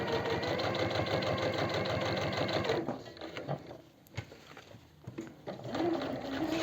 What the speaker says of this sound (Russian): просто прокладываем отделочную строчку по намеченным линиям